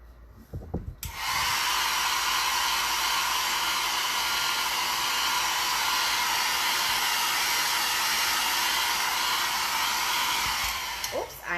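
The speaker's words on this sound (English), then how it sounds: "We're going to use the hairdryer again." Hair dryer blowing on a glitter-coated buffalo plaid craft tumbler, switching on abruptly and running as a loud, steady, close whoosh for about ten seconds before cutting off.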